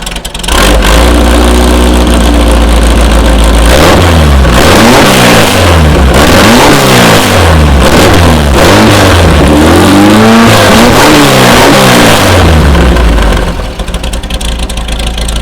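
A 1973 VW Beetle with a 1641 engine and dual Weber carburetors revs up repeatedly from a rough idle, engine note rising and falling in loud, close, rhythmic surges, then settles back down.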